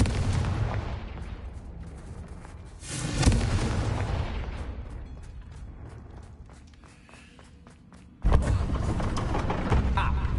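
In Hogwarts Legacy, the Confringo spell bursts with a loud blast near three seconds and another heavy hit near eight seconds. Rumbling and crackling sit between the two impacts, with a voice speaking in the background.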